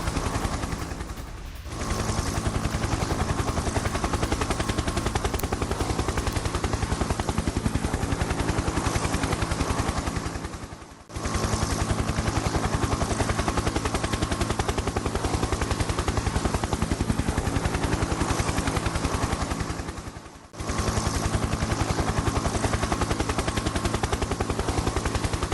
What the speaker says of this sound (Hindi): हेलीकॉप्टर से यूक्रेनी सेना पर बमबारी किए